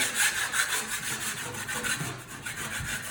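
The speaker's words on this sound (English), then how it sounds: "We go ahead and scrape down the outside." Rough scraping drags across a drywall patch as ridges of joint compound are knocked down, a steady close rasp of repeated strokes with no voices.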